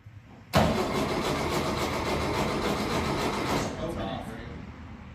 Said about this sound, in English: Okay, jump pack is on. Go ahead and crank.